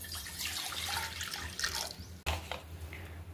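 A glass of water poured into a pot on the stove for ragi java; a close, splashy gush of liquid with a brief clatter in the middle, then more trickling, no talking.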